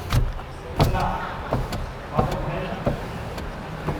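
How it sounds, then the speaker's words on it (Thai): Electric power window on a Changan Deepal car at a dealer booth, with several motor whirs and clunks as the glass moves up and down, close by and mixed with background talk. "ขึ้นลงเป็นไฟฟ้าแต่ไม่ได้ออโต้นะครับ"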